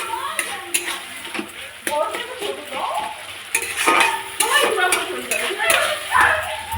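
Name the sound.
spice masala frying and being stirred in oil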